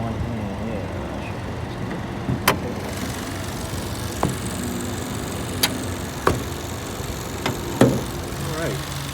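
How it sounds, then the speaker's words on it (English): A 2019 Buick Cascada with a 1.6-litre turbo engine running at idle, a steady low engine drone heard up close with several sharp clicks and clunks, as someone moves around and briefly speaks. "Here's the motor."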